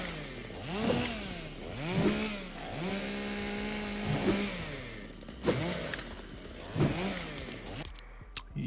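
Chainsaw sound from the Fortnite Chainsaw Dance emote, a loud engine repeatedly revving up and dropping back in rising and falling waves, with occasional sharp hits, alone.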